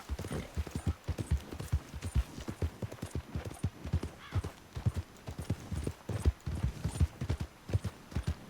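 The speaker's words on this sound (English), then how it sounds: "Hostia, un caballo blanco" Horse hooves clip-clopping in the video game Red Dead Redemption 2, a white horse trotting with a steady, close, regular rhythm of distinct hoof beats throughout, without talk.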